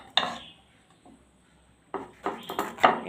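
Knife cutting pointed gourd (potol) into halves on a board, a sharp tap at first, then a quiet pause, then a quick series of close cutting knocks and scrapes.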